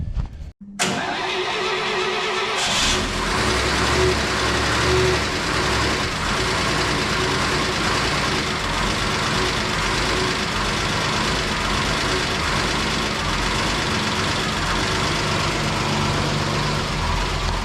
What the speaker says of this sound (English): we gotta warm up the trucks a little bit